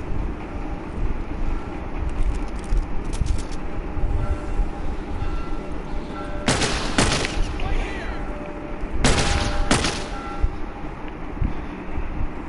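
A shotgun fires in The Last of Us, two loud, sharp blasts spaced a few seconds apart over a constant rumbling game background, with a few faint, quick clicks earlier on.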